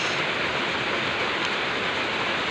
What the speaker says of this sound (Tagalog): umuulan ng napakalakas